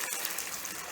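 A cup of water pours into tomato-based marinara sauce with a short, continuous splashing gush at moderate loudness, heard alone without talk.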